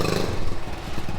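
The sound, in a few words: 1969 Honda Trail 70 motorcycle engine running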